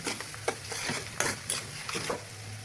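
Beef liver with chili, turmeric and salt is stirred in a hot pan, giving a few quiet spatula scrapes and soft sizzling bursts at a close, low level, with no voices.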